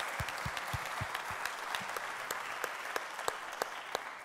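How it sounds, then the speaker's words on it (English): Audience applause at the closing ceremony of an annual conference, steady sustained clapping from a crowd, some claps sharp and close, fairly quiet overall. "we give them an extra applause"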